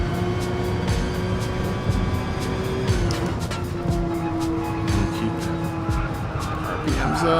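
Race car engine in Gran Turismo Sport at Brands Hatch, revving hard and holding high RPM through turns, with steady loud engine drone, tonal whine shifting pitch and bursts of tire squeal throughout.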